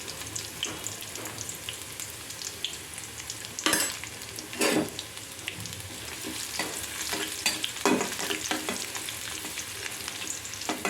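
Chopped garlic and a pinch of black cumin fry in hot oil, a dense steady sizzle with a few louder stirring scrapes, close and without talk.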